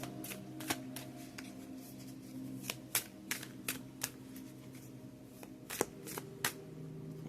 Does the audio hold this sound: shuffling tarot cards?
yes